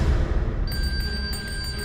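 A servant's bell rings frantically in the dead of night, a bright sustained metallic ring that enters partway through and continues with pulsing strikes over a low rumbling background.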